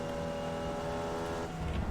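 Formula Vee race car engine in the iRacing sim, a steady loud buzzing drone with strong harmonics held throughout, dipping briefly near the end before picking back up.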